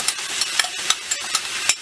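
Pre-soaked rice sautéed in a hot pan: a bright, continuous sizzle punctuated by regular scraping strokes of a spoon about every third of a second, close-up, with no voices.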